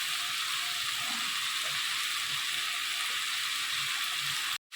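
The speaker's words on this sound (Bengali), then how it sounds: "হালকা আঁচে ভাজতে হবে, বেশি আঁচ দিলে পুড়ে যাবে।" Food fries gently on low heat in a pan, giving a steady, even sizzle that holds at a moderate level and ends with an abrupt cutoff.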